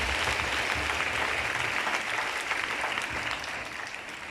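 A church congregation applauds together after the Gospel acclamation, a steady, dense wash of clapping that fills the space and holds for several seconds before easing slightly at the end.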